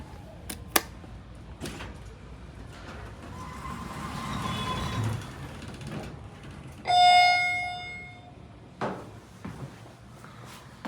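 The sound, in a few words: Alliance hydraulic elevator running at Menards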